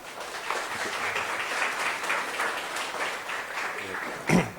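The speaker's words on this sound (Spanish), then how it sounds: "Les pido un aplauso para el profesor." An audience at a university lecture on shark trophic ecology and ecotoxicology applauds the professor, steady broadband clapping filling the room at moderate level, with a brief louder burst near the end.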